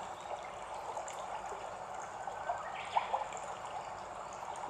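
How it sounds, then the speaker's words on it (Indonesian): A river flows with a soft, continuous babble and trickle, small splashes rising here and there over a steady watery wash. Nobody speaks. "Dengarkan suara gemericik aliran sungai."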